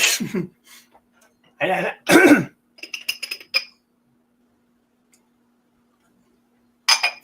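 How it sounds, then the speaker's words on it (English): A few short, harsh coughs and throat-clearing bursts close to the mic, separated by pauses, with faint light ticking and clinks at the end. "Yep, still fighting that cough."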